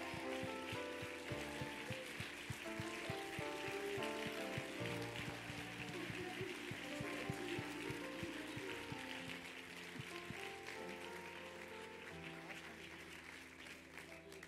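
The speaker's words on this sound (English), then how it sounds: "Let's give this group a hand of applause." A church congregation applauds steadily for a group, a dense wash of clapping over sustained musical tones, with voices mixed in throughout.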